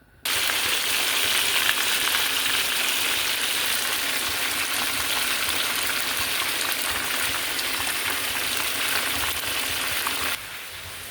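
Steady loud sizzling of food frying in olive oil in a pan, a continuous hissing crackle that holds for about ten seconds before dropping to a quieter simmer near the end.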